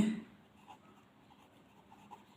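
A marker writes on a board during an accounting class. Its soft, faint squeaks and scratches come and go in short strokes against a quiet room.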